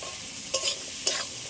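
Shrimp, eggplant and potato frying together in a pan, with two short bursts of scraping and sizzle as the pieces are stirred, over a low steady hiss.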